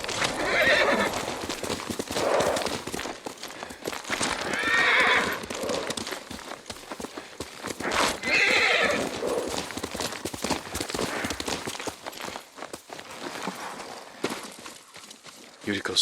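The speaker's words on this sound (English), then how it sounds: "Yuriko's horse." Hooves clip-clop steadily and a horse neighs several times in Ghost of Tsushima, the sound of Yuriko's horse, with speech and ambient game sound mixed in around it.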